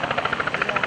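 Skyride helicopter flying in at the Greenwood Lake airshow, with a rapid, regular rotor chop that sounds steady and fairly close across the short span.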